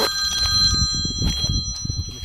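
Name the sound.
mobile phone ringing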